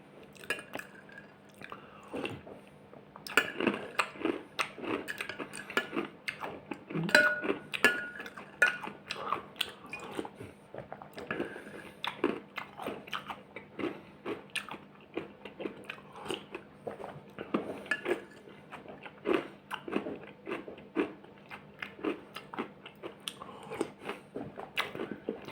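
Close, crunchy chewing of caramel and chocolate breakfast cereal with dense irregular bites and faint clinks of a spoon against a bowl, steady throughout with no talking.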